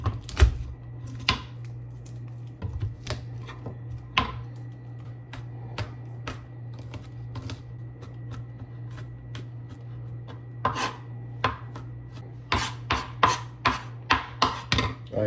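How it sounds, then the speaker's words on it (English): Garlic cloves crushed and onion diced with a knife on a cutting board in a home kitchen in the Philippines, a long run of sharp irregular chopping taps that quicken and cluster toward the end, with no talking. "crush this all up, and some onion, dice it up, and get it in the pan."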